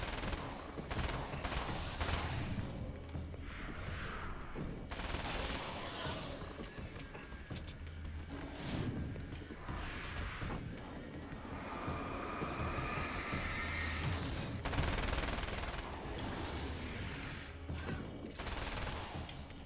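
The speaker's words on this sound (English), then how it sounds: "I stopped shooting because I thought that would have been enough to kill him." Gunfire in Alan Wake's American Nightmare cracks out in repeated bursts and single shots amid a rumbling game backdrop, fairly close but moderate in level, with no voices.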